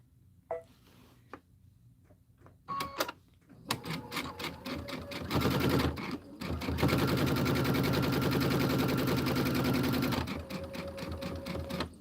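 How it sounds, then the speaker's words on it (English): A sewing machine stitches along the whole edge of a project, running in a long steady mechanical whir after a few short starts and bursts, loud and close with no talk. "Let's sew the whole edge."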